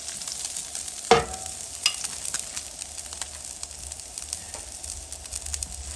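Sliced garlic with a little crushed red pepper sizzles in a pan as a sauce base for seared halibut, a steady close frying hiss with a sharp stirring scrape near the start and light clinks after.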